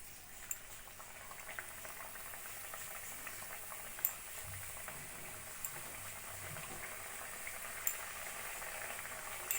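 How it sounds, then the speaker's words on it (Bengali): Gujiya fry in hot oil in a kadai over a low flame, giving a soft, steady bubbling sizzle, with a few faint clicks now and then. "এবার লো ফ্লেমে আমি গুজিয়াগুলো ভেজে নেব"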